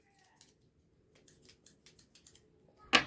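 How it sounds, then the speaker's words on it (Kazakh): A magnet is rubbed along a pair of metal scissors during a simple classroom magnet experiment. A few faint, light scraping strokes are followed by one louder, sharp metallic rasp right at the end, with no talking. "Біз бірінші магнитті қайшына үйкейміз."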